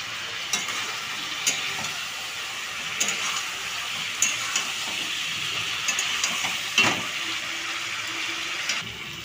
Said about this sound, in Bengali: এবার এর মধ্যে সেই পেঁয়াজের পেস্টটা দিয়ে দেব।